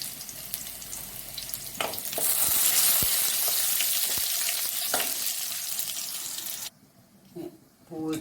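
Curry leaves hit hot oil already holding popped mustard seeds and onion, setting off a loud, hissing sizzle that swells for several seconds with scattered pops, then cuts off sharply to near quiet.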